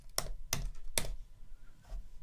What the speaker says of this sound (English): you can quit MATLAB by typing